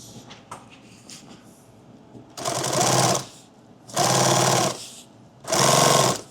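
A sewing machine winds a bobbin in three loud bursts of fast, steady whirring, each lasting about a second, separated by pauses filled with faint handling clicks.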